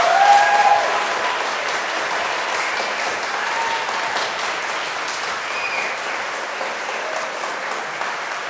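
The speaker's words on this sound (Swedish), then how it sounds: "ger ni dem en jättestor applåd till för deras drama" A large church crowd at a confirmation service applauds steadily and loudly throughout, with no voices over it.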